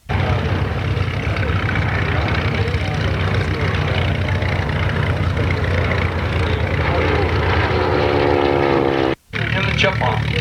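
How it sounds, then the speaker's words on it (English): Harvard training aircraft at an airshow run up their piston engines, a loud continuous rumbling drone with rough propeller throb that swells steadily, a brief dropout near the end, and a voice talking faintly under the noise. "Now, when the Harvards get down there and start running up,"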